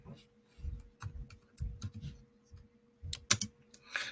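Someone types a name on a computer keyboard: quiet, scattered clusters of key clicks arrive in short irregular bursts with brief pauses between them, ending in a quicker flurry of taps.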